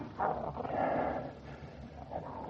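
A bloodhound barking as a sound effect in a 1948 radio mystery drama, a few loud, close, sustained barks spread through the clip with no talk over them.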